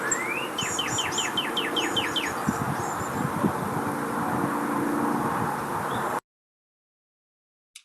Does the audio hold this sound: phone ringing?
no